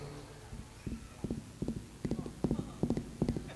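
Two fingers tapped to mimic a single horse's hoofbeats make a steady, close clip-clop rhythm that grows louder as it seems to approach, with people talking around it.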